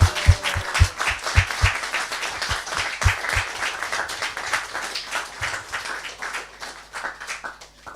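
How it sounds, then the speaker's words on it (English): An audience applauds the actors after a devotional drama, starting with a few sharp, loud individual claps that thicken into a dense, steady round of clapping and then gradually thin out. "let's give a round of nice applause to all the actors"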